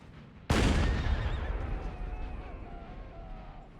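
A single heavy cannon blast from Napoleon: Total War artillery booms loudly and suddenly, then rumbles and decays over several seconds beneath faint battlefield noise.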